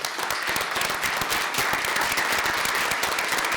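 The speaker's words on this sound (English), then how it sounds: "Could we give them a round of applause?" Audience applause at a Madison schools event honoring all-state students: a steady, dense crowd of clapping hands, sustained evenly throughout with no speech over it.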